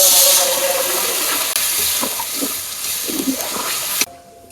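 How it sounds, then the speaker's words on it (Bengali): Water poured into a pan of spices frying in oil for a country chicken curry gives a loud, close, continuous steamy hiss and sizzle that drops away sharply near the end. "পানি দিয়ে দিলাম"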